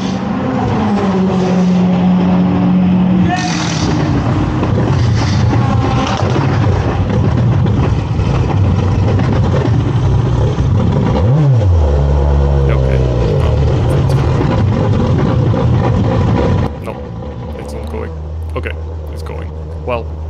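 A formula race car engine roars loudly throughout as it is push started, sputtering and revving as it catches, with a deep rising pitch sweep midway and a change in tone near the end.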